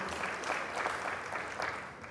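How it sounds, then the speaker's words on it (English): An audience at a community forum gives a brief round of moderate applause, a soft, steady patter of many hands heard from a distance in the room. "You should applaud, because this is an important issue."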